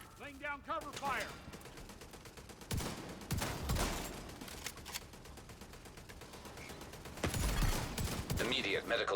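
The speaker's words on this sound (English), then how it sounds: "Laying down cover fire" Bursts of video game gunfire laid down as covering fire, loud crackling volleys around 3–4 s and again near 7–8 s, with game voices and radio chatter running between the shots.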